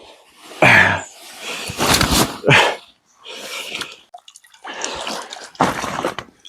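A freshly caught fish being slipped back into open water, several splashes and watery sloshes in separate bursts with short pauses between, close and loud.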